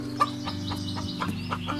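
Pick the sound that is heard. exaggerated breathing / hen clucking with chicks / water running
hen clucking with chicks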